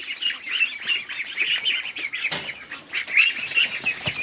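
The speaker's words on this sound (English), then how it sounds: "What a mess of little ducks." Young ducks in a pen give a steady run of high, busy peeps and quacks, one brief louder burst halfway through, with no one talking.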